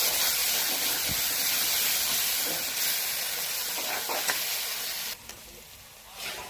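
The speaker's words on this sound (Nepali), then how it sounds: "अनि राखेँ बेसार, त्यसपछि राखेँ मैले मसला हालेर एकछिन चलाउने राम्रोसँग" Onions with turmeric and spices fry in a pan as they are stirred, a loud continuous hiss and sizzle with faint scraping, briefly dropping in level near the end.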